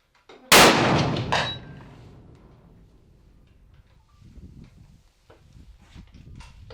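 A rifle shot rings out, one loud sharp crack with a quick second report and a long fading echo, followed by quiet outdoor rustling and faint footsteps.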